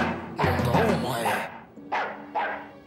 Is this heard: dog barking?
yes